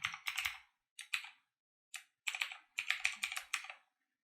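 Password typed on a computer keyboard while setting up Windows directory services restore mode: several quick bursts of close, crisp keystrokes separated by short pauses, with no talking.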